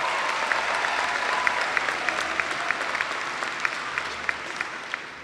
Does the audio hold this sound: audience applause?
yes